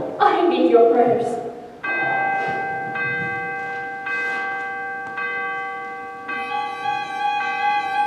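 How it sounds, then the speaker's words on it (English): A cathedral bell tolls in long sustained peals with rich lingering overtones, struck repeatedly over several seconds, loud and resonant, with voices briefly heard at the start. "The cathedral bell summons us."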